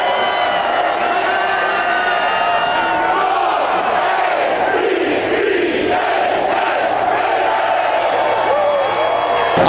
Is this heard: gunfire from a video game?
no